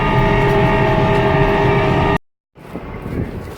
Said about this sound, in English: there's a convoy of tractors going up the road